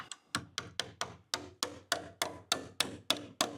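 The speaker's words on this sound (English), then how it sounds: "These nails now I can drive home, because this is staying here." Long nails hammered through a wooden deck joist into the rim joist, about a dozen sharp, evenly spaced close hammer blows in steady rhythm with short ringing decays.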